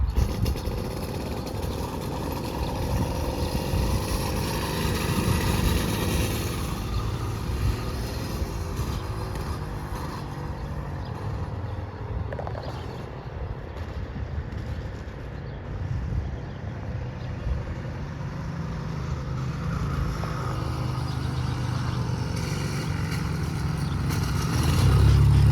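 A motorized bicycle engine fitted to a Schwinn chopper drones steadily as it rides along a road, rising and fading as it passes, with wind noise and no talk.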